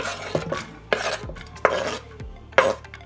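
A cooking pot is handled on a kitchen stovetop while rice and peas with coconut are made, giving four sharp metallic clanks and scrapes spaced about a second apart, close and fairly loud, with no one talking.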